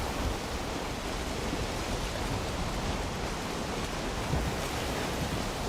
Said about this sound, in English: Hearing this fucking waves crashing all day